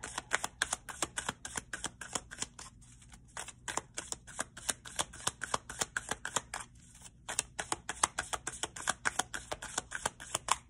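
Tarot-style Practical Witches spell deck cards being shuffled and pulled, a rapid run of crisp riffling slaps and flicks with two brief pauses, close and steady throughout.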